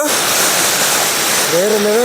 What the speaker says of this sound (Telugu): ఎంత కిందకి పడుతుందో వాటర్ ఫాల్